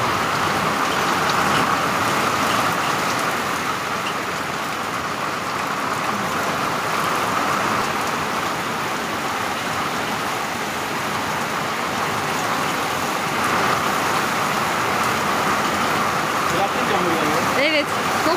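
Heavy rain pours steadily onto a garden, a dense continuous hiss with no break from start to finish and occasional louder spatters near the end.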